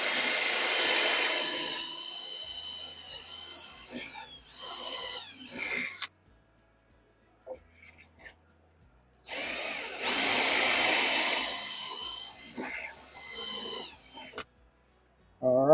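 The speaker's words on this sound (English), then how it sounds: "if all worked well, I should have some nicely drilled pocket holes" A drill in a Harbor Freight pocket hole jig bores pocket holes into 1 1/2 inch wood in two loud bursts, each a high whine that rises and shifts pitch as the bit cuts, separated by quiet pauses with small clicks.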